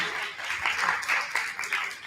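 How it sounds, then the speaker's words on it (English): After a debate on race, religion and gender, an audience gives a round of applause, a dense wash of many hands clapping steadily at moderate volume for a couple of seconds. "Everyone, let's give them another round of applause."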